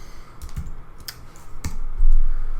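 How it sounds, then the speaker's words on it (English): On a Mac computer keyboard, the Command A shortcut is pressed, giving a few sharp, close key clicks over a low hum. "So I just went Command A on my Mac keyboard"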